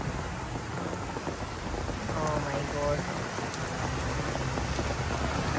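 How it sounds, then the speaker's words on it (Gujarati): A heavy monsoon downpour pours down in a steady, dense roar of rain on surfaces that never lets up, with a single brief exclamation from a voice. "અત્યારે જો ધોધમાર વરસાદ વરસી રહ્યો છે"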